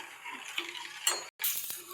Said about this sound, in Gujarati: એકદમ સરસ ઉફાણું આવે ત્યાં સુધી આપણે હલાવતો જ રહેવાનું છે